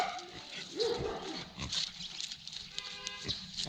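A bulldog named Bonnie barks in a few rough bursts at close range, mixed with household noise and some background voices.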